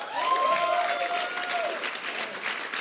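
Audience applause in a late-night TV studio show, a lively clapping wash with a voice speaking over part of it.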